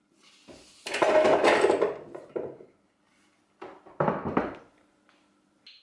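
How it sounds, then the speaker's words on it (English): Raw potatoes tipped into a Tefal Actifry fryer fitted with its turning paddle, two bursts of close clattering and thudding separated by a quiet pause, with faint knocks at the end. "I'm going to put the potatoes in."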